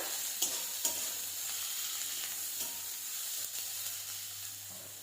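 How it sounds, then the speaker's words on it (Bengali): Chopped onion frying in a pan, a steady soft sizzle running throughout with occasional scrapes and stirs from a utensil, close and fairly quiet, no voices. "পেঁয়াজটা ভাজা হয়ে গেছে"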